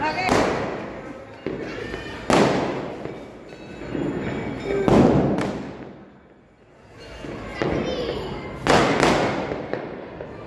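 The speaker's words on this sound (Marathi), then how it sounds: "फटाके वाजत आहेत।" Firecrackers burst repeatedly outside during Ram Lalla Pran Pratistha celebrations, sharp loud cracks every couple of seconds with rumbling echoes between, and faint voices underneath.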